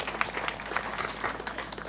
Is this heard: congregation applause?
yes